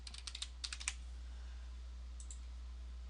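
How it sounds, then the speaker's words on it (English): Quick keystrokes on a computer keyboard, a rapid cluster of crisp clicks followed by a pause and a couple more taps, close and clear over a low steady hum. "We're going to type in footer right here"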